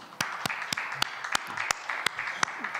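A church congregation in Incheon claps together in steady, evenly spaced beats that ring out sharply over a soft room background.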